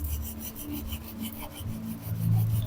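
Rhythmic rasping strokes of tailor's marking chalk sharpened back and forth on sandpaper, about a dozen quick scrapes, close up with no speech.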